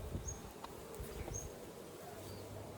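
Bees buzz faintly around a hive, some trapped up in the lid, with thin drifting hums, a few passing whines of individual insects and soft rustling in a quiet outdoor setting.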